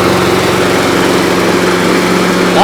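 A Yard Man Model 979 riding mower with a Briggs & Stratton Intek engine runs loud and close, a steady, buzzing engine drone with constant vibration throughout.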